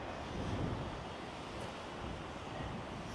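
Outdoor wind blowing on a breezy day at a balcony food court, a steady broadband rush buffeting the microphone throughout, with no talk.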